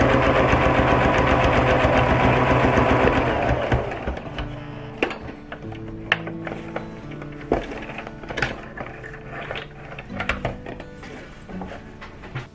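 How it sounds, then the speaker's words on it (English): A sewing machine stitching an apron strap to a folded hem, running in a loud continuous whir at first, then slowing into short irregular bursts and clicks, with no voices. "I'm gonna sew them in place."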